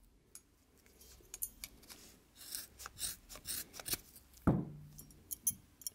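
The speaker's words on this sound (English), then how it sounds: "You're going to cut that off, and you're going to cut it off on the buckle side as well." Scissors snip through a strap on the buckle side of a horse halter, up close and quiet: scattered light clicks and cuts, one sharper heavier snap near the middle, and a few more small ticks after it.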